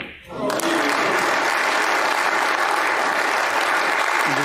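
Loud, sustained audience applause fills a snooker arena at the 2023 English Open fourth-round match between Zhang Anda and Ronnie O'Sullivan, swelling in quickly and holding steady to the end.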